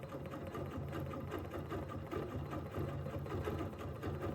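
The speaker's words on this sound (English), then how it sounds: "So I'm going to stitch uh, in all of those excess of thread and fiber." Sewing machine stitching over loose thread and fibers to couch them in place, a steady continuous mechanical whir that runs loud and unbroken throughout with no talking.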